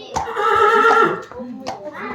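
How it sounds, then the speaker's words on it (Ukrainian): A horse neighs loudly and close by in a long whinny, then gives a shorter second call, with children's voices and hand sounds around it. "цього коня звати Віві."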